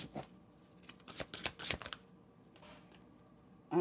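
A deck of tarot cards is shuffled up close, with a few quick riffling bursts broken up by short pauses. The sound is soft and there is no talking.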